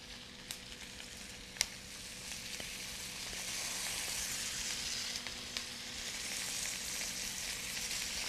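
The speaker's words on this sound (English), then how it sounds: "I'm going to let this saute for another few minutes until the tomatoes cook down" Onions, tomatoes and garlic sauté in a pan with a steady soft sizzle and crackle, plus a few faint spatter pops and light ticks, heard close and alone.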